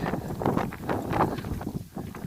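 Wind gusts buffet the microphone on a flat open hilltop in Lincoln Mountain Open Space, coming as loud, rumbling waves of noise with no voices.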